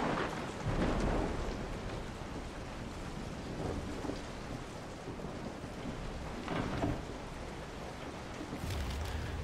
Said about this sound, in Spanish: me encanta la lluvia